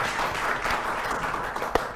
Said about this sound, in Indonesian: Beri tepuk tangan dulu untuk dua tim nih.